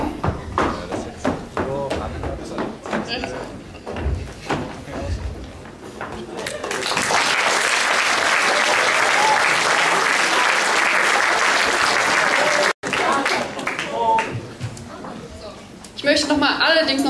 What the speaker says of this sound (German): nochmal einen ganz, ganz großen Applaus für die Marie